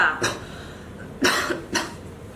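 Three short, harsh coughs close by, spaced unevenly with brief quiet gaps between them.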